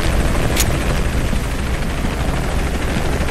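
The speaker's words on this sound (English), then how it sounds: "Always hated helicopters." Helicopter noise from the video game Shadow of the Tomb Raider, a steady loud rotor roar filling the whole stretch, with one brief sharp burst near the start.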